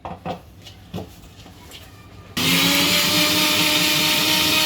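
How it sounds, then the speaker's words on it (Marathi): An electric mixer grinder whirs into a loud, steady whine as it blends coriander and spinach into a paste, after a few sharp knocks and clatters as the jar is set in place. "परत मिक्सरला लावायचं"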